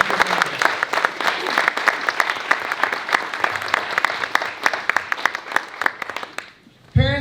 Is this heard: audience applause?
yes